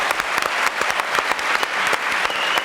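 A French talk-show studio audience applauds a couple, with a dense, lively burst of many hands clapping, close and fairly loud, holding steady for a few seconds.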